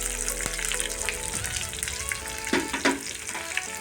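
Sliced onion and peppercorns sautéing in a pan for a tomato kurma, giving a close, continuous sizzle and crackle with a few brief stirring scrapes and no talk.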